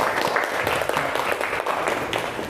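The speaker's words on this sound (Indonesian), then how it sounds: "yuk kita beri aplaus bersama-sama untuk kita semua" Applause from a class of students in a classroom: dense, steady clapping from many hands, fairly close and sustained throughout.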